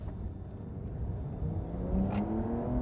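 A Porsche 911 Carrera 2S (992) flat-six boxer engine accelerates hard at full throttle nearby, its growl climbing steadily in pitch over a couple of seconds.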